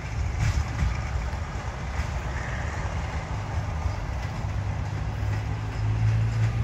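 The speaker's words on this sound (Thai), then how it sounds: "ขบวน447สุราษฎร์ธานีสุไหงโกลกทำบนออกจากสถานีสุราษฎร์ธานีในทางที่1แล้ว" Diesel express train no. 447 from Surat Thani to Sungai Kolok pulls out of Surat Thani station, a steady low rumble and engine drone holding throughout with faint wheel noise, no talk.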